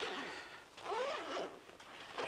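A zipper on an antenna carry bag is pulled open in one long close rasping run, then a couple of shorter tugs, with no talking.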